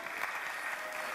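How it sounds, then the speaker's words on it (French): A conference audience at a French trade meeting applauds two invited guests as they come to the podium, giving a brief, even wash of clapping with no pauses. "Merci, merci de les applaudir."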